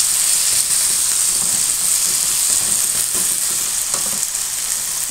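Green chillies frying hard in a pan, giving a loud, bright, unbroken hiss of sizzling oil close to the ear, with faint stirring textures underneath and nobody speaking.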